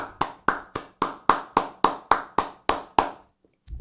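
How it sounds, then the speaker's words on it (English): A single person claps slowly and steadily, about a dozen close, sharp claps in even rhythm, stopping before a short pause. "Round of applause for"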